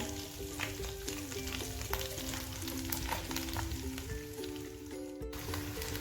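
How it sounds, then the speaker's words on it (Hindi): Chicken sizzles and spits steadily in a pan of sautéed garlic paste while being fried for chow mein, a dense continuous crackle with a faint tune playing underneath. "चिकन को हमने 5 मिनट के लिए फ्राई करना है"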